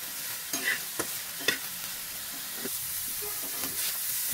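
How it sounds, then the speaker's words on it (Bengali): Chicken pieces seasoned with salt and black pepper fry in a pan, a soft steady sizzle broken by several light scraping stirs and clicks, with no talk. "আর একটুখানি লবণ এবং গোলমরিচ দিয়ে মুরগির মাংসটা ভেজে নিচ্ছি।"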